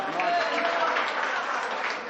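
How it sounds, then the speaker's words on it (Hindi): An audience at a mushaira poetry recital breaks into loud, dense applause, a close continuous roar of clapping and crowd noise that lasts about two seconds without letting up. "एक बार जोरदार तालियों से इस्तकबाल करें दोस्तों।"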